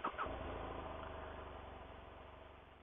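A 2015 BMW F800R motorcycle engine cranks and fires with a couple of quick bursts, then settles into a steady, even idle that slowly softens, heard alone without voices.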